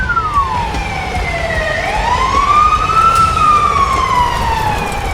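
A fire engine siren wails as the truck arrives at a farm fire, its pitch sweeping slowly down and up in long glides, loud and steady throughout with no talk.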